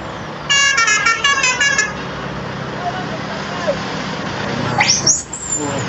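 Trucks in a night-time Merdeka convoy in Malaysia sound melodic telolet horns, a rapid chirping tune rising above loud engine rumble, with a later swooping blare and shouts from a nearby crowd.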